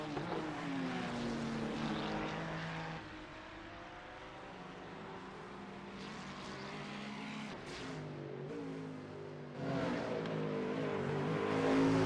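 Onboard engine drone of a Ferrari 296 GT3 race car in iRacing at Oran Park, a steady, loud tone that dips slightly mid-run, then climbs and swells again toward the end.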